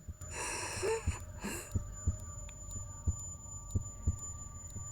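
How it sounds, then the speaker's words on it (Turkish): A slow, steady heartbeat in the game Into the Dead 2, deep regular thumps repeating about once a second, joined early on by a couple of rasping breaths and a faint steady hum behind. "Kalp atışı."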